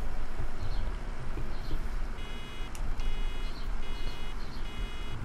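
Baler warning buzzer in Farming Simulator 17 while baling a first cut, a series of repeated short electronic beeps over steady machine rumble, recurring in even bursts through the second half.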